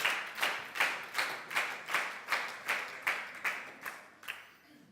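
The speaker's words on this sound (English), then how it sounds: "Keep that clap on" Rhythmic group clapping in unison at a leadership training camp event in Siófok, about ten steady, evenly spaced claps from a room of people, then fading out.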